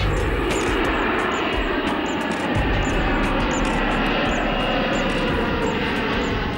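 An Indian Airlines passenger jet, flight IC 814, takes off from Kathmandu's Tribhuvan International Airport bound for Delhi, giving a loud, sustained engine roar that fills the whole stretch without pause.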